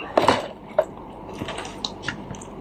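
Close-up bites and chewing of crunchy Jollibee Chicken Joy fried chicken wings during a mukbang, with a few sharp crunches near the start, then quieter wet chewing and faint clicks.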